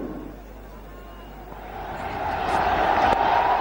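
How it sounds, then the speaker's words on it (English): A cricket stadium crowd at Nahar Singh Stadium, Faridabad, swells into a cheer for a boundary in an India vs South Africa match in 2000, rising from a distant murmur to a louder roar, with commentary talk over it. "Listen to the crowd"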